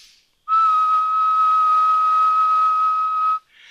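A person whistles a single steady note near 1,500 hertz, held clear and loud for about three seconds between short pauses.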